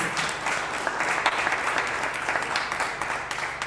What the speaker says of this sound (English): So round of applause to the teachers.